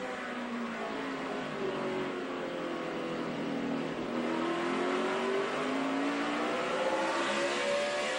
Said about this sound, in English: You hear that engine. That's sort of a rhythm you get into.